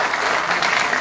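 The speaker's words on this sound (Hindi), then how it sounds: "आप ताली तो बजा दो कम से कम।" A brief burst of crowd clapping at a Congress candidate's rally in Jakhrana, Rajasthan, loud and close.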